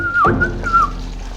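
A person gives a short, wavering whistle to a horse, rising and dipping in pitch, in two phrases with a brief gap between them.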